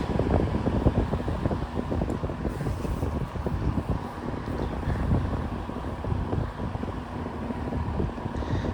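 A vintage Sears Homart box fan running on its low setting gives a steady, loud broadband whoosh with a low hum, unchanging throughout.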